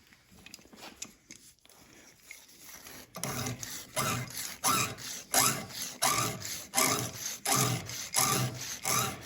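A strip of cloth-backed sandpaper rasps around a wooden captive ring in steady back-and-forth strokes, quiet and scattered at first, then louder and rhythmic, about one stroke every half second.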